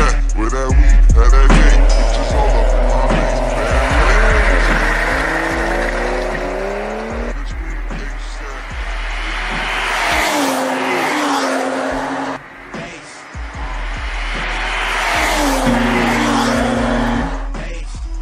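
A BMW M340i and a 335i launch in a drag race, engines revving hard through gear changes with tire squeal, the cars roaring close by then pulling away and returning.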